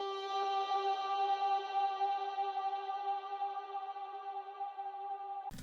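A vocal sample pitched up 12 semitones and down 2 semitones for an R&B beat rings out as a sustained, bright, harmonically rich tone with processed effects, steady and alone, cutting off abruptly at the end.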